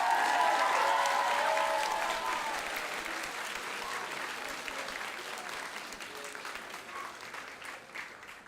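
A school opening assembly audience claps for a faculty member, a full round of applause that starts strong and slowly thins out over several seconds, heard from within the hall.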